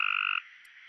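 A Cope's gray tree frog gives a harsh, buzzy trill, a short loud pulsed call that stops abruptly and leaves a faint hiss behind.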